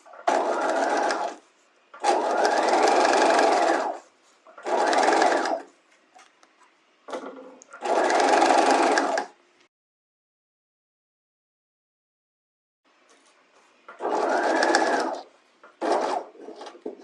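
A sewing machine stay-stitches a bodice neckline in six bursts of steady whirring, with short pauses and one longer gap, each burst starting and stopping cleanly, close and clear.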